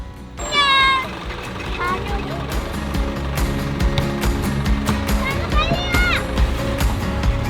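A cat in a quiet mountain farming village meows several times, rising and falling, close and fairly loud. A voice and rumbling background noise run underneath.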